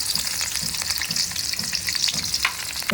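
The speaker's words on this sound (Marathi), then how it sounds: "तेल तापलाय आपलं कांदा टाकूया" Chopped onion frying in hot oil in a pan over a wood-fired stove, a loud, continuous close sizzle with light stirring scrapes and no talking.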